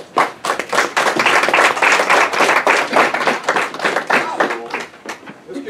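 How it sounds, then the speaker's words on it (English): An audience at a commemoration of the 150th anniversary of the abolition of slavery claps for a state senator, with dense, steady applause filling the room and a few voices mixed in before it thins toward the end. "round of applause to State Senator James Sanders."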